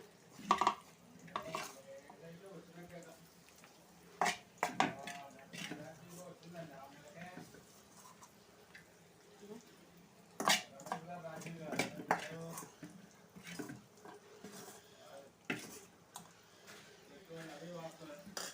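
Gongura chutney being stirred and mixed in a pan, with a utensil clinking and scraping against the metal in bursts alongside a soft squishing, under someone talking throughout.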